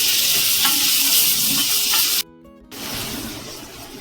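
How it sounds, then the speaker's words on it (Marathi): Spice paste with asafoetida sautés in hot oil in a pan, a loud bright sizzle with stirring scrapes, broken by a brief near-silent gap before the frying resumes. "आता याला चांगलं तेलावरती परतवून घ्यायचं"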